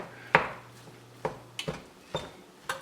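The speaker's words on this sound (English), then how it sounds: "I just want to give this a head start by stirring it in with the ground beef." Spoon clanks and scrapes as hot cooked rice is stirred into ground beef in a full pot, a handful of sharp knocks spaced irregularly over a quiet kitchen background, with no talking.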